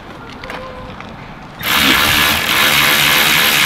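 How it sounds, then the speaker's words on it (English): A power tool tightens the brake caliper slide pins on a Mitsubishi ASX. After a quiet start, a loud, steady, hissing whir begins abruptly and holds close and constant to the end. "now I'm gonna tighten up the slide pins"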